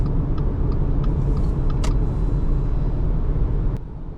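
Engine of a 2023 Subaru Forester 2.0i-S droning steadily under acceleration, a loud, constant rumble heard from inside the car, easing slightly at the very end.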